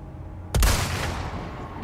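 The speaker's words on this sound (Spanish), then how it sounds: "Vale, desde aquí con el francotirador. Tengo dos disparos, uno para cada uno." A single loud sniper rifle shot in Resident Evil 4 Remake on PS5, a sharp crack with a booming low-end thump followed by a lingering tail of reverberation.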